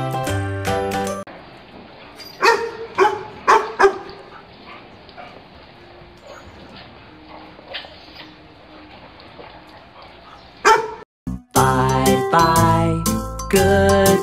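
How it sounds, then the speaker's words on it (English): A dog barks in loud, close yips and woofs, with a bunch of short barks at the start and a dense burst at the end, plus scattered whimpers and a faint jingle in between, with no talk. "The dog."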